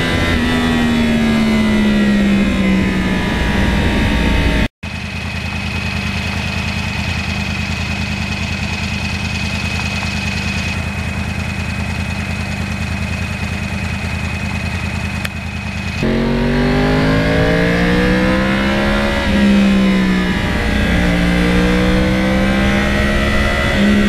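A 2009 Yamaha R1 crossplane motorcycle engine runs loud and close while riding, its pitch rising and falling through revs, with a steadier droning stretch in the middle.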